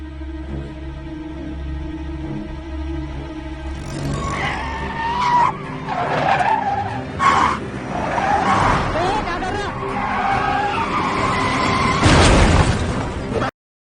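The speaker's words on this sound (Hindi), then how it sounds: "गाड़ी ठोक दी." A car skids with squealing tires and slams into another car. Loud scraping and impact bangs build over several seconds, with a final heavy crunch, while voices shout over the commotion.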